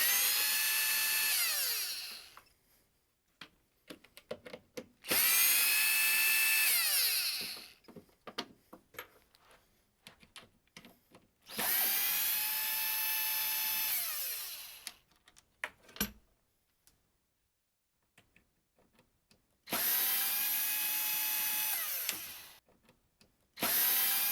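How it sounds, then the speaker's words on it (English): A power screwdriver whirs in four long bursts, removing screws from the back of a Marshall DSL100H amplifier chassis, with short clicks and handling rattles in the pauses between runs. "now we're going to remove the screws on the back"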